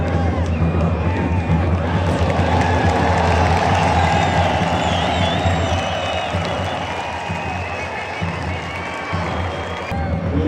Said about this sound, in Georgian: მის გამოჩენას კი გულშემატკივარი დიდი ოვაციებით შეხვდა.